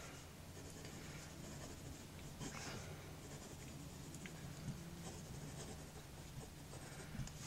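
Brunnen Colourcode fountain pen writing quickly on paper, a faint, close, continuous scratchy rustle with small irregular strokes and taps, no talking.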